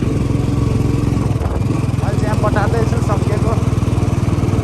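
A motorbike climbs a steep paved uphill road in a Nepali village, its engine droning steadily and close throughout, with a person talking over it.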